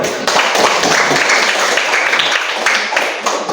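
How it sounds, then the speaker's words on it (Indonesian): Classroom of students clapping together, a close, loud and continuous round of applause that stays steady to the end. "Nah, tepuk tangan dulu."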